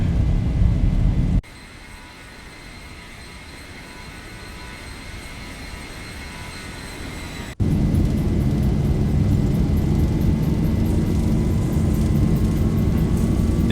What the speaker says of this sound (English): Go ahead and advance the throttles, and we'll go total speed. And we are rolling.